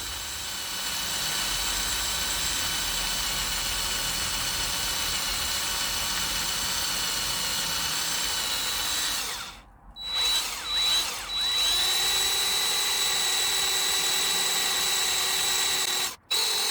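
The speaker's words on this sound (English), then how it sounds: "So we're just going to drill into this" A power drill bores out a snapped, rusty bolt stud in a Ford Transit Connect 1.8 TDCi engine, running as a steady close whine for long stretches, with brief stops and restarts and a short pause near the end.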